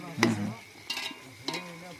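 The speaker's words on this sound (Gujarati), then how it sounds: "તળવામાં પાંચ દસ મિનિટ ડુંગળી તળતા વાર લાગશે" Whole onions frying in a pan for a village-style onion curry, with three separate bursts of stirring and scraping over a low, steady sizzle; no talking.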